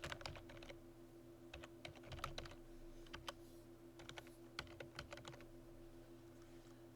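Keys on a computer keyboard being typed, light irregular clicks in short bursts and pauses over a steady low hum, quiet and close.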